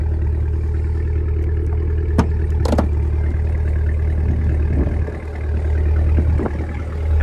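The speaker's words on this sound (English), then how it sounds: "a menacing exhaust, which you can still hear over this windy day we're having." The exhaust of a 2024 Cadillac Escalade V-Series gives a steady low rumble on a windy day, continuous throughout with a few clicks and knocks over it and no voices.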